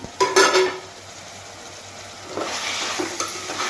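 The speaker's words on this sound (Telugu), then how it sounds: "చికెన్ కొంచెంసేపు బాగా వేగాలండి" Chicken sizzles in a pan for a drumstick curry, a low steady frying hiss, with a few sharp clatters of a spoon against the pan at the start and again toward the end.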